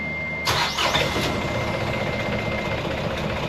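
Boat engine being started after a fuel-draw fix, catching abruptly and settling into a steady, fairly loud idle close by with no talk over it.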